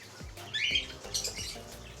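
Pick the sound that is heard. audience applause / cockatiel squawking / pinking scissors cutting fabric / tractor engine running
cockatiel squawking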